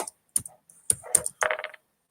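Typing on a computer keyboard during an online lesson, a few short irregular bursts of close, crisp key clicks separated by silent pauses, with no talking.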